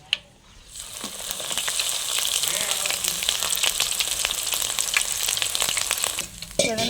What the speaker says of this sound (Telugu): అల్లం కూడా దంచుకుని వేయించుకుందాం